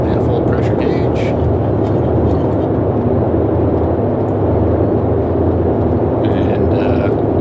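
Radial engines of a Boeing 247 airliner in Microsoft Flight Simulator running at takeoff throttle, a loud, steady, heavy drone throughout, with someone talking over it.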